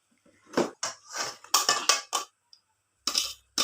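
Parboiled sela rice is tipped into a cooking pot. It comes as a few short, crisp rattling bursts with brief silent gaps between them, close and fairly loud.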